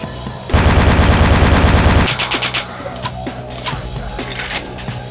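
Rapid automatic gunfire from a weapon in the video game Vampire: the Masquerade - Bloodlines, a loud sustained burst of about one and a half seconds, then a few scattered shots and impacts tapering off.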